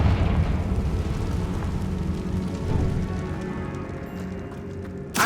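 Confringo fire-blast spell going off in the Hogwarts Legacy video game, a loud rumbling explosive burst that churns on with dense low crackle and debris, ending in a sharp new blast.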